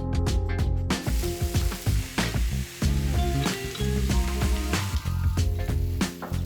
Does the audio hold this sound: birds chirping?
no